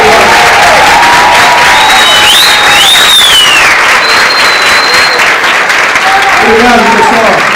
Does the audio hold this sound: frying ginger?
no